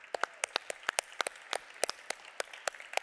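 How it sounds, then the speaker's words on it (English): Audience applause at a conference session, heard as sparse, scattered individual claps with a loose, uneven rhythm rather than a full ovation; a modest group clapping nearby with no talking. "And an applause for the Bangladeshi once again."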